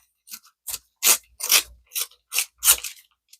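Paper is ripped by hand in a quick series of short, crisp tearing strokes, close and loud, while embellishing a junk journal.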